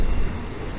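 Steady low rumble of a train riding along in Thailand, heard from inside the carriage with the window open; a continuous close drone with no clear events.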